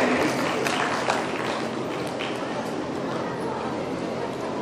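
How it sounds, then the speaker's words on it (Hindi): Audience at an awards ceremony in India applauds an arriving guest, a dense, sustained roar of clapping that stays loud and even for several seconds. "जोरदार तालियां पधारे हुए कीर्ति महोदय के लिए"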